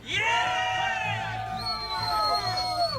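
Cheering and shouting rise from a crowd at a rally, a loud swell of whoops and hollering voices that carries on throughout with a second wave of yells toward the end.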